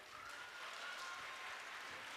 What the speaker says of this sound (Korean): 긴장했을 학생들을 위해 많은 박수와 함성들로 맞아주시기를 바랍니다.